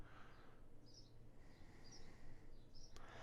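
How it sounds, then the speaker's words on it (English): Faint birdsong chirps drift from a distance on a quiet morning, short high calls repeating every second or so over low background hum. "Don't know if you can hear the birds singing in the background."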